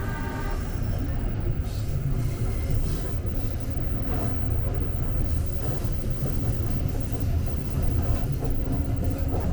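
An economy-class KA Lokal Merak local train runs along its line, heard from inside the air-conditioned carriage as a continuous loud rumble with faint rhythmic wheel clatter and a steady hiss.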